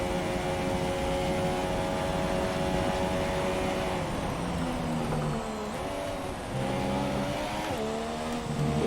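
An F1 car in F1 2017 on the Spain circuit revs out in third gear, a high, sustained engine whine that holds steady and then drops and climbs again through shifts.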